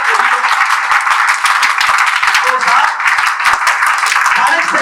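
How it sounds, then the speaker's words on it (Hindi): A crowd claps at a direct-selling seminar, giving a loud, continuous patter of many hands across the whole stretch without pause. "एक ताली तो बजा दो यार"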